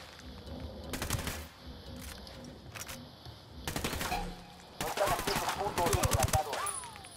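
Bursts of submachine gun fire in the Ghost Recon Wildlands video game, several rapid rattling volleys from near to mid distance, separated by short pauses, with game ambience and brief radio-style voices between them.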